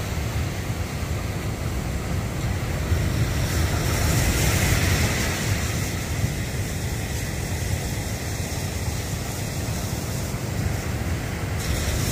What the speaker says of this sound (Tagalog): Malaki ng alon eh.